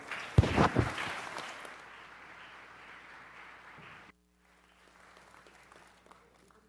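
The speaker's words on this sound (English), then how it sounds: "Let's give them another round of applause." A round of applause fills a city council meeting chamber, starting with a loud burst of clapping that thins into a sustained wash before cutting off, then leaving faint room noise.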